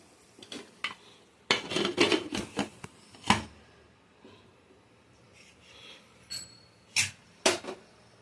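Spoon clinking and scraping through rasam rice in a metal pressure cooker pot, a series of sharp irregular taps and scrapes close by, with quiet gaps between strokes.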